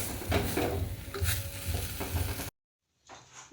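Scraping and stirring of a green pea kachori filling frying with spices in a kadai, several strokes close up over the sizzle, then a brief silence before faint stirring resumes.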